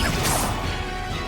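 A Confringo spell blast in a video game bursts with a loud crashing impact and whooshing rush that fades over about a second.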